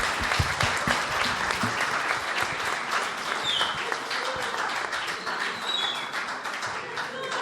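An audience applauds at a mental-health debate in a cinema, with dense, sustained clapping from many people at a steady level throughout, and faint voices underneath.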